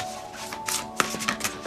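Tarot cards are shuffled by hand, a quick run of soft riffling flicks and papery slaps, close and fairly quiet, with no talking.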